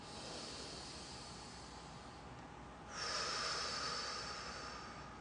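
A slow breath drawn in through the nose during a relaxation exercise, soft and close, swelling partway through and holding steady as a hiss, with no talking.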